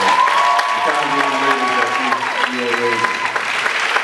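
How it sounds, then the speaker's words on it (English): An audience claps in a steady, dense round of applause for parents at a Little Miss African American pageant. The clapping is loud and continuous for the whole stretch, with a voice carrying over it. "you should give yourself a round of applause."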